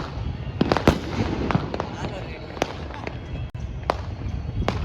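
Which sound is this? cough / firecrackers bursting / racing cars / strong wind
firecrackers bursting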